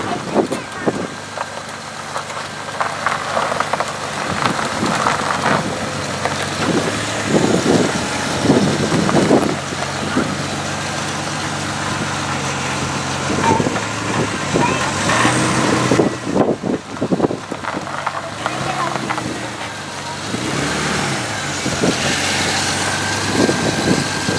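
A 2004 Ford truck engine runs steadily with a low rumble and occasional revving swells, heard up close for an extended stretch.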